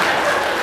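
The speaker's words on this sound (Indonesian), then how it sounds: "Tepuk tangan untuk Pak Wakapolres." Applause from an audience at a Maulid Nabi commemoration in Papua, honouring a deputy police chief; steady, dense, close clapping filling the whole short moment.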